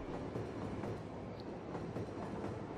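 Passenger train rolling along a track in the city-building game Cities: Skylines, a steady dense rumble and rattle of wheels and cars, continuous and fairly loud with no talk.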